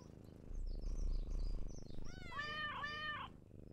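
A cat meows in the Small Island Woes video game, two drawn-out rising cries over a low droning music bed, close and clear with no voices.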